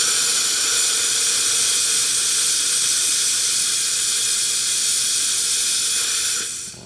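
A Vibiemme espresso machine's steam wand, tested for repair, blasts a loud, steady, close hiss for several seconds before cutting off sharply at the end.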